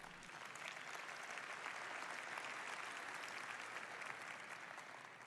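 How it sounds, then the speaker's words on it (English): A conference audience at Nvidia's GTC event breaks into applause, a steady wash of many hands clapping, heard faint and distant throughout, with no speech over it. "Only at GTC do you get an applause for that."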